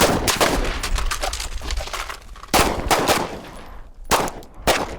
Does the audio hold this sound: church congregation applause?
no